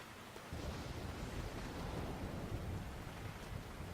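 A thunderstorm in GTA IV with the LCPD:FR mod: a dense, even roar of rain with deep rumbling thunder. It starts abruptly after a brief quiet moment and then holds steady, with no voices.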